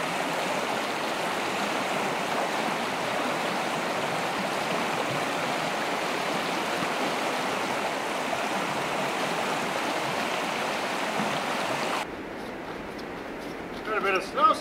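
Soda Creek flows steadily as a close, continuous rushing hiss on a trail near South Sister, then drops away near the end to quieter rustling and handling noise.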